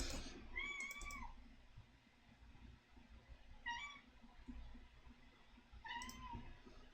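A pet cat meows three times, fairly close and clear, each cry drawn out and evenly spaced over quiet background noise with faint keyboard typing and clicking.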